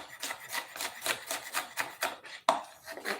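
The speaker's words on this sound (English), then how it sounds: "just bunch it up and keep chopping to however you like, whatever size you want." A knife chops peppers on a cutting board for lobster tacos, about a dozen quick, evenly spaced taps in a steady rhythm, close and fairly soft, with one sharper knock near the end and no talking.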